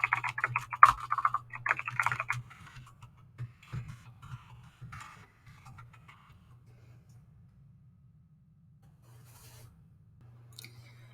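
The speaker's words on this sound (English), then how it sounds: "Pardon my clicking." Bursts of computer keyboard typing, clicky and close, cluster in the opening seconds and then thin to sparse taps over a steady low hum, with long quiet stretches between.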